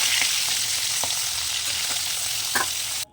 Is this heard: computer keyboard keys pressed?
no